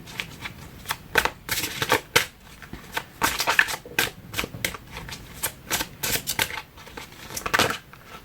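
Oracle cards are shuffled and drawn by hand. The crisp riffling and flicking comes close up in quick irregular bursts, with brief slaps as cards land.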